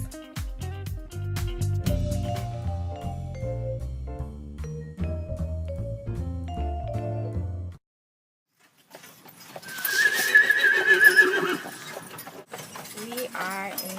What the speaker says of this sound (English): We are in a horse carriage ride.